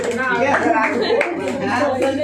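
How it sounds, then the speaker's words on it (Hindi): Scattered clapping from a student audience at a Teacher's Day celebration at an institute in Uttarakhand, with loud talking over the top; hand claps come as a handful of distinct bursts under the voice. "ताली तो बजा दो यार कम से कम"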